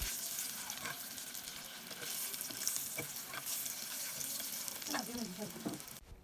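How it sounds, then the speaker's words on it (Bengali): Broiler chicken eggs frying in oil in a pan, a faint continuous sizzle with occasional small pops and stirring clinks, steady throughout and no one talking. "ডিমগুলো ভাজা হয়ে গেলে যখন এরকম রেড ব্রাউন কালার একটা কালার আসবে তখন নামিয়ে নিচ্ছি।"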